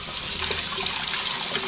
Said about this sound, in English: just take running water